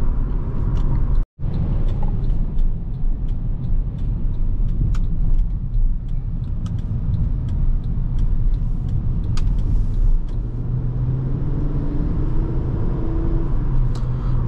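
Inside a 2010 Honda Accord EX-L V6 under acceleration, a steady low engine and road rumble holds close and loud, rising slightly in pitch with no talk.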